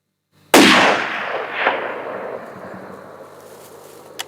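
A single sharp rifle shot fired at a buck during a hunt, a loud crack followed by a long rolling echo that fades over several seconds, with a faint later click.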